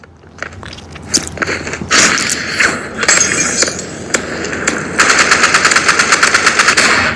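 Video game gunfire crackles in loud, sharp shots and bursts that build into rapid automatic fire near the end, with metallic clinks mixed in.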